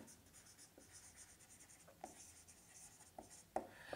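A pen writes out a physics formula for average life in short faint scratching strokes with brief pauses and a few light taps, quiet and close in a still room.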